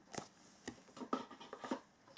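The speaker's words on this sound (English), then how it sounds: "Just shuffle a little bit" A deck of oracle cards being shuffled by hand in a quiet room, giving a few soft, papery riffling bursts at an uneven pace with no talking.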